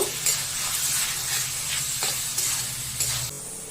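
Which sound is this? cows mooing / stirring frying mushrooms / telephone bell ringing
stirring frying mushrooms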